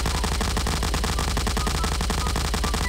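Dense, continuous automatic gunfire from a Garry's Mod Five Nights at Freddy's pizzeria game, rapid and loud throughout with no pauses and no talk.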